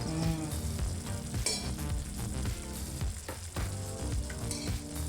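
Oil added to puliyogare gojju in a pan, sizzling and frying steadily and loudly at close range, with stirring scrapes mixed in and no talking.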